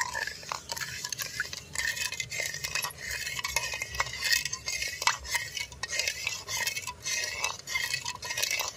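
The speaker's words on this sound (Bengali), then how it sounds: "এবার দিয়ে দেব আগার আগার পাউডার, দুধ, চিনি ভালোভাবে মিশিয়ে নেব" A spoon stirs agar agar powder, milk and sugar together in a bowl, giving steady scraping clinks and swishes at close range with no talk.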